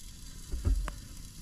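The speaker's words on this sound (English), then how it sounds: "Can you guys hear that sizzling?" Meat cooking over a campfire sizzles and crackles softly, quiet and low, swelling briefly in the middle with a faint pop before settling back to a gentle hiss.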